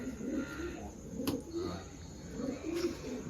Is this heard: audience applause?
no